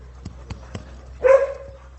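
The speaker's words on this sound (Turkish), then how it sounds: "Çok güzel bir köpek" Male dog on a farm gives three short, evenly spaced barks followed by a longer whining yelp, close by and fairly quiet.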